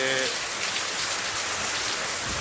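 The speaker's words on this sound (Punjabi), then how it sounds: "ਜਿਹੜੀ ਅੱਜ بارش ਹੋ ਰਹੀ ਆ ਪੰਜਾਬ ਦੇ ਵਿੱਚ" Loud, steady rain in Punjab pours down in a dense, even hiss of drops striking surfaces, close by and unbroken throughout.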